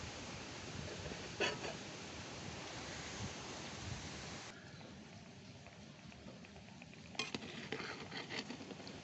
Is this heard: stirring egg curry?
yes